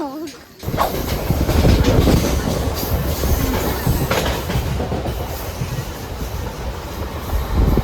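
A train rolls along the tracks close by, loud rumbling and rattling with a faint squeal and rhythmic clatter that continues throughout.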